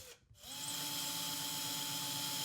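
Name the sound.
drilling small holes into ceiling to find wood joist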